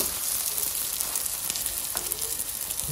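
Steady crackling sizzle of food frying in a pan, close and continuous, with a couple of light clicks and no talking.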